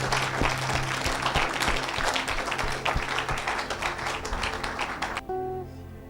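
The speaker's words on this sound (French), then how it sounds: "Somebody put your hand together." A congregation in church applauds steadily with loud, dense clapping for about five seconds, and a sustained organ or keyboard tone plays underneath before the clapping cuts off.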